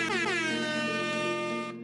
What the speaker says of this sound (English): Let me just put an air horn there quickly.